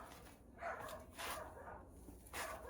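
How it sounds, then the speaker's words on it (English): A dog barks excitedly indoors in a few quick bursts, faint and a bit distant, over a low background hum. "my dog's going nuts"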